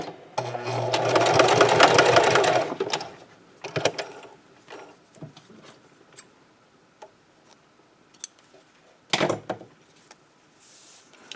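A sewing machine stitches a scrub cap in a sustained loud whirring burst lasting a couple of seconds, followed by quieter clicks and handling noises, then a second short stitching burst near the end.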